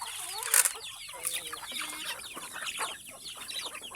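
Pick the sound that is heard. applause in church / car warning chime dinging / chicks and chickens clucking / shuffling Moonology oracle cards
chicks and chickens clucking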